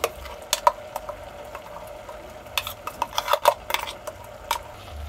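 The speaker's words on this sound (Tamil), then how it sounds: "இந்த காய் உப்பெல்லாம் ஒரு வாட்டி கலந்து விட்டுக்கலாம். காய் உடையாமல் இப்படி கலந்து விட்டுக்கோங்க." A spoon stirs cooked vegetables with salt and ground coconut paste for aviyal, giving irregular clinks and scrapes against the pot, with a quicker cluster of taps midway, close and crisp over a quiet background.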